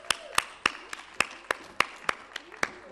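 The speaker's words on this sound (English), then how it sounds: "A big round of applause for Carrie." At a conference plenary session, the audience applauds as a speaker is welcomed, heard as sharp, evenly spaced claps in a steady rhythm, fairly close and without other sound competing.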